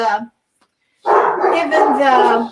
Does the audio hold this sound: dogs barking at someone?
yes